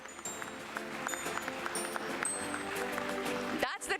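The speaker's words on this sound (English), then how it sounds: "let's keep the applause going, ladies and gentlemen" A ceremony audience at a stock exchange listing keeps up continuous applause, fairly faint and mixed with crowd murmur, ending abruptly before a short final noise.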